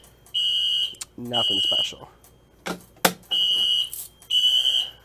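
A Notifier AFP-200 fire alarm panel sounds its alarm in steady high-pitched beeping bursts, about four pulses, with a person talking between them and a sharp click or two.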